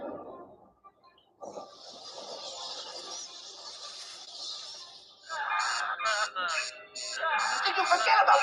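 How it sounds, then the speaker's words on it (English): An alarm sounds in bursts: a wavering electronic tone followed by rapid pulsing beeps that grow louder and more insistent, with a short quieter gap before the final loud stretch. "Did you forget about my little alarm, Max?"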